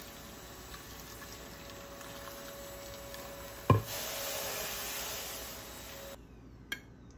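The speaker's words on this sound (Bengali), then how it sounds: "এবারে আমি মিষ্টিটাতে ঢেলে দেবো।" Hot yellow milk syrup poured over rasmalai sweets, a soft steady liquid rush that begins with a sharp knock of the pan, holds for a couple of seconds, then stops, followed by a faint clink.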